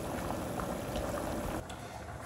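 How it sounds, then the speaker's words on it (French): Water pouring and splashing as boiled chicken is drained in a home kitchen, a steady bubbling, sloshing wash of liquid that eases off slightly near the end. "le poulet il est bien cuit, donc je vais les égoutter"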